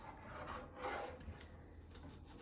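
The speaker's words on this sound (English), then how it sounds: "So I'm going to start by grating some ginger, just half a teaspoon." Fresh peeled ginger is rubbed against a grater in a soft, close, continuous rasping scrape, faint and alone with no talk.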